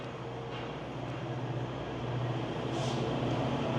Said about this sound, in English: And there's a GO train.